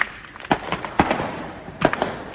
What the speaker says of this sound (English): It's got fireworks in there.